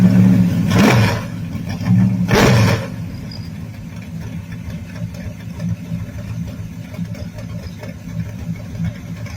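A 1970 Dodge Dart with a 440 engine, bored 60 over, in a mini-tubbed pro street build, blips twice in sharp revs before settling into a loud, lumpy idle.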